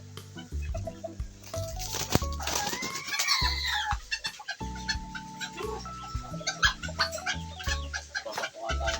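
Quality breed chickens on a Filipino hobby farm clucking near and at moderate volume, with repeated short clucks, pecking patter and scattered bird calls, and no one talking.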